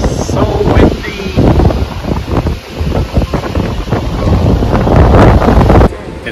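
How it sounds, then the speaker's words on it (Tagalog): Strong wind buffets the microphone in loud, continuous gusts on the shore of Waterton Lakes, with lake water audible beneath the roar. "Just so windy."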